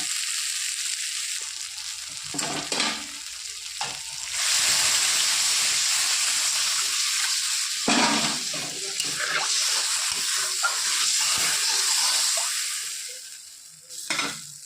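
Oil and water poured into a frying pan of cooked-down mustard masala for a khaira fish curry, giving a loud, steady sizzle and hiss with surges of bubbling and stirring scrapes, close and continuous.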